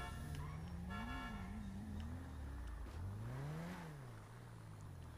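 A car horn in a GTA roleplay police chase honks in sustained, wavering blasts over the drone of a revving engine, loud and close with no talk.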